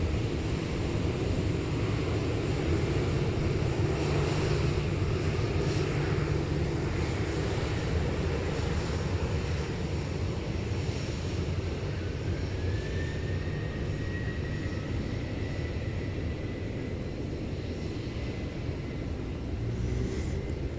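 A T-Way airplane takes off at Incheon Airport, a broad steady roar of jet engines with low rumble that slowly eases as the aircraft climbs away, heard from a distance with no talk.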